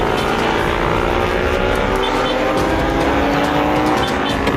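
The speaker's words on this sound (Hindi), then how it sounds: "सिपाही बाइक लेकर उस ओर गया।" Police motorbike speeding off after a scooter thief in a chase, a loud, continuous high-revving engine roar holding steady throughout with no voices.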